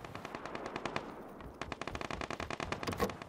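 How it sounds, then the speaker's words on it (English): Rapid bursts of automatic gunfire in PlayerUnknown's Battlegrounds crackle in quick succession, with a brief lull before a dense, loud volley resumes near the end. "Do you hear the gunshots?"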